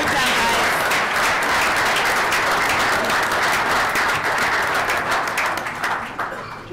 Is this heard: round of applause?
yes